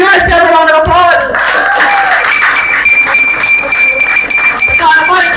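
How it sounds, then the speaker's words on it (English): A crowd claps and cheers at a Jamaica Labour Party political meeting, the applause steady and dense throughout. "Give yourself a round of applause"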